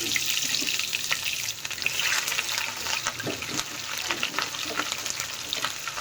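Garlic sizzles and fries in hot oil for a bitter gourd and shrimp curry, a steady, close crackling hiss with brief clinks and stirring scrapes throughout.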